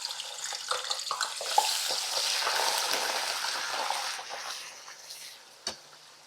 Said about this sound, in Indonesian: Nah ini udangnya saya akan tumis terlebih dahulu ya teman-teman